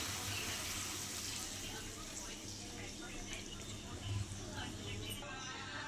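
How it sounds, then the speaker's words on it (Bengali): Water poured into a pot of cooking chicken curry (a light chicken jhol), a steady, close splashing stream lasting throughout. "এবার একটু জল ঢেলে দেবো হালকা জল দেবো"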